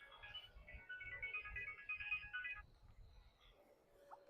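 A phone ringtone rings in a repeated melodic pattern for about two and a half seconds, then stops, with faint background noise and low murmuring under it.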